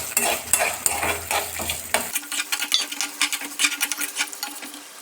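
Turkey berries stirred together with tamarind in a hot pan, a spoon scraping and clinking against the metal over a soft sizzle, steady and close.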